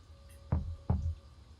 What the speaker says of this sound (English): Okay, a knock on the wall.